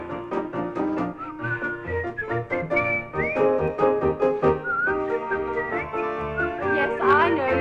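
Someone whistles a lilting tune. The whistling is close and steady, with rich harmonic accompaniment underneath throughout.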